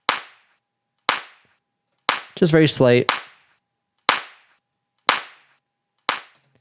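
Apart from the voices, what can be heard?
clap drum sample layered with a punchy transient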